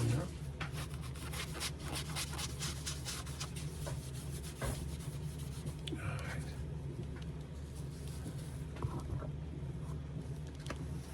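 Soft, steady rubbing of conditioner into dry shell cordovan leather shoes, a close, faint scuffing texture with irregular strokes and a low background hum.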